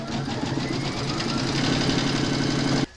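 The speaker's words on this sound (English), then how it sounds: "Pop your hoop into your machine and stitch round number 5" An embroidery machine stitching a coffee placemat runs a rapid, even mechanical chatter of needle strokes for about three seconds, close and steady, then stops abruptly.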